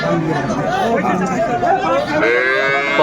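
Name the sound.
cattle mooing at a market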